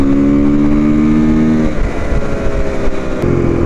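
A new motorcycle revs up nearby, a loud engine note with steady tonal harmonics that gives way to a rougher, rising roar as it accelerates, with no voices.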